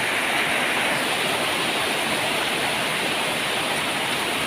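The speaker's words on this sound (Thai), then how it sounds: "บ้านกกกอดนะครับฝนตกนะครับ" A downpour drums steadily over Ban Kok Kod in Thailand, producing a thick, uniform roar of rainfall that holds constant and close for the whole stretch, with no speech.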